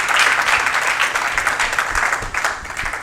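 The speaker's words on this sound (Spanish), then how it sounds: "Vamos a darle palmas al que vive" A church congregation claps for Christ during a Spanish-language Bible study service, giving a dense, rolling round of applause that stays loud and fairly even throughout, with no talking over it.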